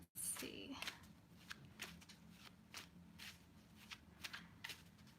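A deck of tarot cards is shuffled by hand, giving soft repeated riffling and flicking bursts at an uneven rhythm. Each burst is close and fairly quiet.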